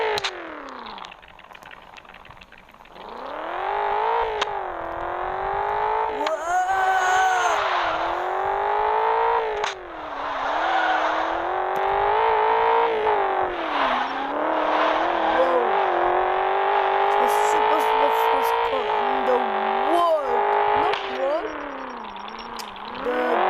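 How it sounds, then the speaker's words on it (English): Simulated car engine in a driving simulator video game, revving steadily and loud with rising and falling pitch sweeps throughout, the engine note continuous with occasional gear-change dips and no talk over it. "Oh, listen this car."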